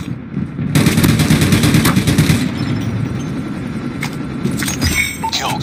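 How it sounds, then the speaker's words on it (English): Sentry gun in Call of Duty Mobile firing a rapid, loud automatic burst that starts abruptly, then gives way to quieter scattered shots and game effects. "Friendly sentry gun deployed."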